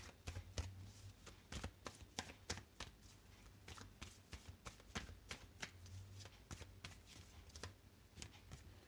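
A deck of tarot cards is shuffled by hand, giving quiet, rapid riffling and tapping bursts that repeat steadily for several seconds in a hushed room.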